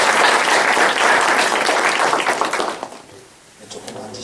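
Audience applause for a professor at the close of a lecture, a dense burst of clapping that fades away after about three seconds, then a quiet room.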